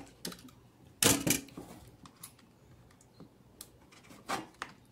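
A blunt utility knife cuts into a plastic PET bottle in short scraping, crackling bursts, one louder rasp followed by several softer strokes, close and with no voices.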